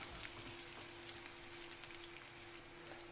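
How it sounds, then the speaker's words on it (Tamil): Onions and garlic sautéing in a pan for a Tamil ladies finger poriyal, a steady soft crackling sizzle with scattered light pops, continuous and fairly quiet throughout. "கொஞ்சம் நேரம் வதங்கட்டுங்க."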